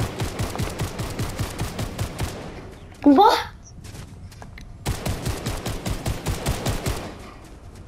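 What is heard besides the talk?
gunfire, video game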